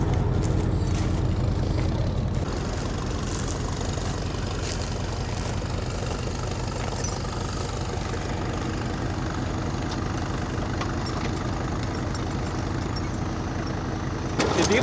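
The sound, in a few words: car engine revving, wheel spinning while stuck in a field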